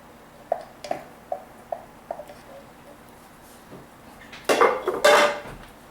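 Drained, rinsed black beans stirred into a pot with a spoon, a run of light regular knocks against the metal followed by louder, wetter scraping and clattering near the end, with no talking.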